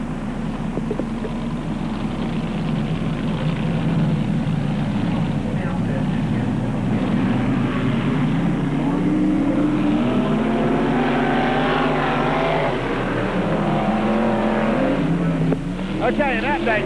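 Stock cars race at I-77 Speedway, a steady loud roar of engines with pitch sweeping as cars come around a curve, a race announcer talking continuously over the noise.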